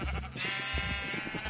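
Sheep in the Minecraft video game bleat in one sustained, wavering cry lasting over a second, close and fairly loud with no talking over it.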